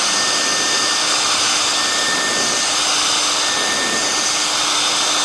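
A heat gun blows a loud, constant roaring hiss as it warms a sticker on a Honda CBR motorcycle. The sound is steady and close, with no other sounds over it.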